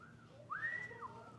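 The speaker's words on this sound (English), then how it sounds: "It was dead silent and one man whistling." A single man whistles from an otherwise silent comedy club audience, one rising and sustained wolf-whistle-like note, brief and moderately faint.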